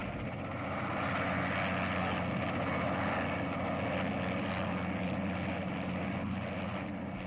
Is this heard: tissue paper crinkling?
no